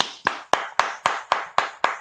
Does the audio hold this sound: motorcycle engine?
no